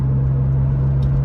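A BMW M3 engine idles through its aftermarket exhaust with a steady, close low hum and a strong tonal drone, constant and unbroken throughout.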